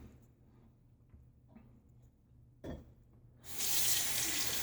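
A bathroom faucet runs to rinse the handle of a Gillette Aristocrat safety razor. A dull clunk comes first, then a loud, steady rush of water that fills the last second or so.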